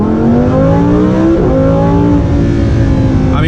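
Lamborghini Huracan Performante V10 engine accelerating hard on a rough forest road on winter tires, a loud, close, steady roar with rising harmonic tones and a brief gearshift dip midway, no talking.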